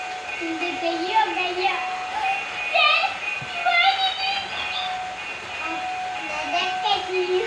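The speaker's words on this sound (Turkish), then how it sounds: "Tren tam böyle arkandan dönerken yap onu." A toy train runs around its track with continuous rolling rattle and electronic whistle-like tones, close by, while a child and an adult talk over it.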